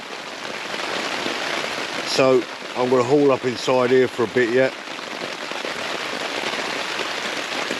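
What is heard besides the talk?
heavy rain on tarp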